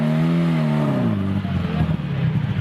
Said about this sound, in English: It's an absolutely lovely sounding car though, isn't it?